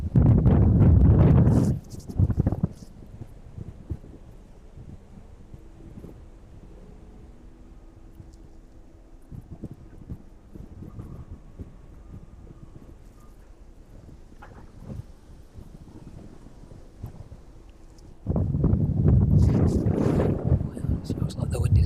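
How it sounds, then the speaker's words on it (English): Strong wind buffeting the microphone at East Midlands Airport on a cold, windy day, loud rumbling gusts at the start and end with a quieter steady blow between. "the wind is getting even stronger up here at the minute"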